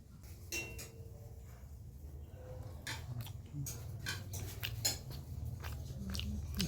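Biting into and chewing a patishapta, a sweet stuffed with kheer, up close: soft crunchy bites and chewing with a few light cutlery clinks, no talking.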